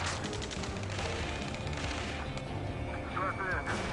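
Continuous crackling gunfire in the video game Ace Combat 7, dense and busy throughout, with shouted voices mixed into the battle noise.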